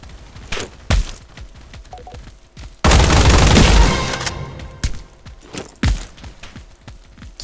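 Gunfire in a Roblox combat arena game, a sharp burst of rapid shots in the middle and scattered single loud shots before and after, close and punchy, no talking.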